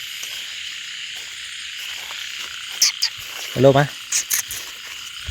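Frogs croak after rain, with a few short rough calls and one longer pulsed croak close by, set against a steady buzzing chorus of crickets and insects in the night.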